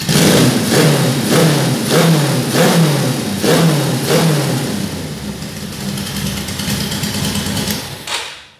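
A Riva 600 engine revving at high rpm in strong pulsing surges, loud and close, then holding a steadier roar before cutting off abruptly at the end.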